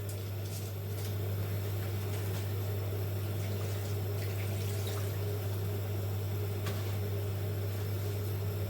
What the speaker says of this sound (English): If you can hear any sound, it's from the bulb in the kitchen, the extractor